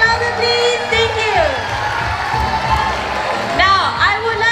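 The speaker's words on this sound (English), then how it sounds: "Can I hear some applause?" A theatre audience at a school English drama competition cheers, whoops and claps loudly, with shouting voices rising and falling across the whole stretch.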